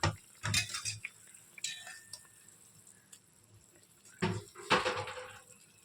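A pot lid comes off and a pan clatters while eggplant cooks in a mustard curry: sharp metallic clanks and scrapes arrive in two bursts, at the start and near the end, with quieter kitchen sounds between.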